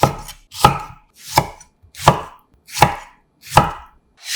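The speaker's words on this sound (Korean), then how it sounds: "반을 잘라 큼지막하게 깍둑 썰어" Knife chopping halved tomatoes into large cubes on a board: six crisp, evenly spaced chops, each a sharp thud, close and alone with no talking.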